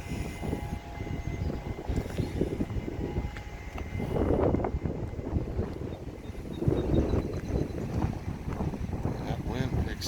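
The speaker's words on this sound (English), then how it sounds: "That wind picks up, it's brisk." Brisk wind blowing outdoors on a cool day, rushing and buffeting the microphone in rising and falling gusts, loud and close.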